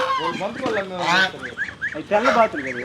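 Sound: ducks or geese honking in a garden

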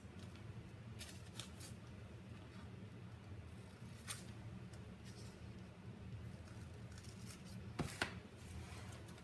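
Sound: cutting out butterfly fabric fragments

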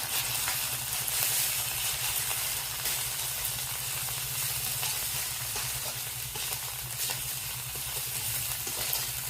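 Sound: frying cauliflower

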